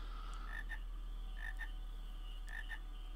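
Frogs croaking in Final Fantasy IX, three paired croaks at roughly one-second intervals over a steady low hum, clear and fairly close with no talking.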